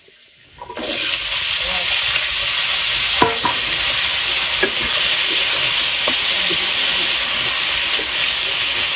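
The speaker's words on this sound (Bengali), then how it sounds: "সবজিটা হালকা ভাজা তারপর মশলা দিয়ে" Vegetables sizzle loudly in a hot pan, a steady hiss that starts abruptly, with occasional scraping clinks of stirring.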